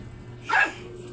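A single short dog bark rings out over a quiet background hum.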